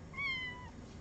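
A single cat meows once, a short, clear, rising-and-falling call heard close up over a faint background hum, with no talk.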